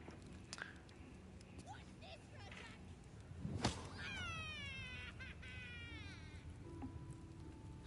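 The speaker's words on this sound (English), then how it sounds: "There's a cat." Cat meowing in the video game Baldur's Gate 3, a faint drawn-out meow rising under quiet background game sound and soft voices.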